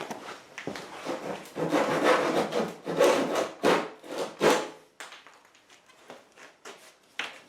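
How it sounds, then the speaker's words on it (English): A handsaw cuts through wood while a chicken coop nesting box lid is built, giving a run of loud rhythmic rasping strokes that then fade into quieter scraping and light handling noises, with no talk. "I'm actually going to get the handsaw now to do that last bit."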